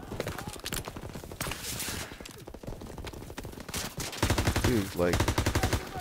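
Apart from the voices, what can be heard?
gunfire in video game Call of Duty WWII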